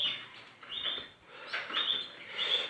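Young canaries chirping, a series of thin high peeping calls repeating in short bursts, close and moderately loud, with no talking.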